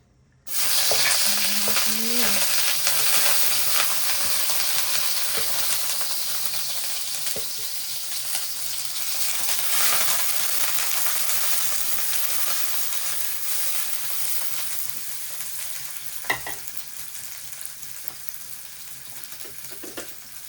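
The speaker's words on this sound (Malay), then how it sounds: "Mula kita tumiskan bawang." Onions hit smoking-hot oil with a sudden loud sizzle that settles into a steady, dense crackle, with occasional scrapes of stirring and a brief clink, close and without talk.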